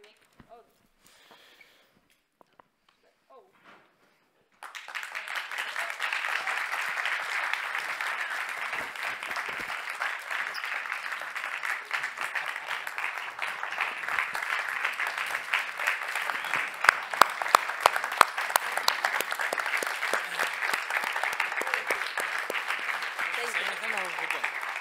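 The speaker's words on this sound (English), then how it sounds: "thank you for standing and thank you for the applause" Audience applause at a YMCA World Council peacebuilding panel, breaking out suddenly after a few seconds of near silence and holding as a steady, dense clapping from a large crowd, with a few sharper claps standing out.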